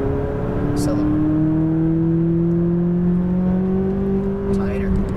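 A McLaren 570S engine accelerates on a track, a loud, close, steadily rising drone, with an instructor speaking over it.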